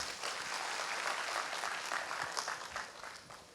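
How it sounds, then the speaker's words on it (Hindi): Steady applause from a crowd at a district administration event in Sant Kabir Nagar, Uttar Pradesh, a dense patter of clapping that holds evenly and then starts to fade toward the end. "आप जवाब दें उसके पहले ज़रा मैं चाहूँगी इस पहल के लिए आप सभी ज़ोरदार तालियां बजाएं।"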